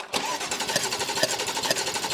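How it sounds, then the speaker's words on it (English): A BMW M3 engine cranks on the starter during a compression test, a rapid, even chugging rhythm that is loud and close and starts abruptly after a brief quiet moment, with no voices. "All we're going to do now is crank the engine"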